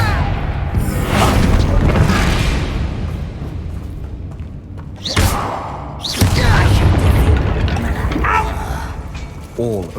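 A Confringo fire spell explodes in the Hogwarts Legacy video game inside an abandoned mine, two loud booming blasts with mechanical creaks and rumbling debris, the second burst longer and heavier.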